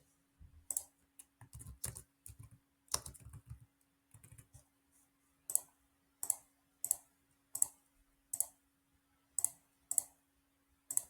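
A series of crisp computer mouse clicks sounds while an online form is being filled in, arriving first in quick irregular clusters and then as evenly spaced single clicks, close and clear against a quiet background.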